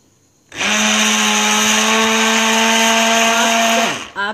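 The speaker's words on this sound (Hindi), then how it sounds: "इसके बाद हम इसे ब्लेंड कर देंगे।" A blender motor whirs loudly and steadily for several seconds blending eight eggs for pudding, with a strong mechanical hum, then winds down and stops near the end.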